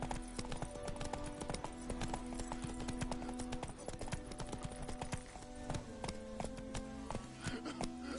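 Horse hooves clip-clop in a fast, continuous galloping rhythm in a PS4 video game, with a steady layer of game music and effects underneath.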